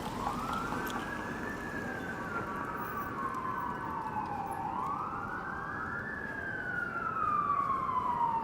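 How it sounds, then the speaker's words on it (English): Emergency vehicle sirens wail along a windy city street in Toronto, a fire truck among them, rising and falling in long sweeping tones at moderate distance over a background of traffic noise. "And our first sirens of the stream."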